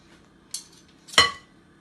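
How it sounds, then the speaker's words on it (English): A spoon scrapes a spoonful of mixture off against a bowl in a home kitchen, with two short scraping clinks, the second louder, in an otherwise quiet room. "pick up another spoonful and then you can scrape it off"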